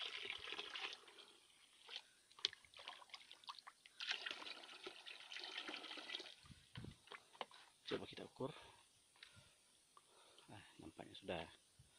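Water, enriched with manure, trickles and splashes as it is poured into a container for planting azolla, a soft, close, uneven pour, while a person talks over it.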